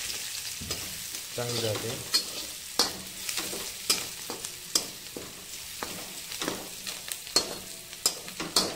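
Onion fries in hot oil with turmeric for egg bhurji, a steady close sizzle punctuated by repeated sharp scrapes and clacks of a spoon stirring the pan, with a brief spoken phrase early on.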